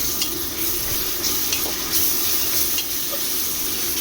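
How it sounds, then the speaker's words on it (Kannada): Ginger garlic paste fries in oil in a pan while biryani is made, with a loud continuous sizzle and scraping stir strokes close by, and no voices. "ಶುಂಠಿ ಬೆಳ್ಳುಳ್ಳಿ ಪೇಸ್ಟ್ ಹಸಿ ವಾಸನೆ ಹೋಗೋವರೆಗೂ ನೀಟಾಗಿ ಫ್ರೈ ಮಾಡಬೇಕು"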